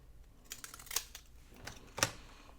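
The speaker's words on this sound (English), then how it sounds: "I'm going to cut this little ticket out" Scissors snipping closely around a small paper ticket for a journal page, a few quiet, sharp crisp cuts spaced apart, two standing out clearly against a faint background.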